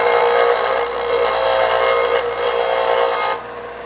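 A pipe edge is chamfered by hand while the pipe is spun on a Honda K-swap Indy car project, producing a continuous close scraping, filing rasp that runs steadily and then eases off near the end.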